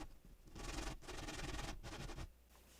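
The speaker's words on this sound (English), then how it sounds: "So that's pretty much the gist of sanding." Sandpaper rubbing down a seam line on a cosclay figure: three close, rasping strokes, each about half a second long, with short pauses between them and no voices.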